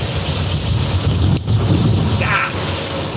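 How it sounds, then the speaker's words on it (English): Steady rain falls with a low rolling rumble of thunder beneath it, a brief dip in the roar midway before the downpour continues; no talk. "Now it's raining."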